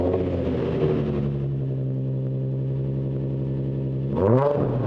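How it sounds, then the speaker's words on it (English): Infiniti G35 with a VQ V6 engine, its exhaust giving a steady droning rumble at idle or cruise before a short rising rev near the end. "It's got the usual VQ trumpet noise and it sounds horrendous."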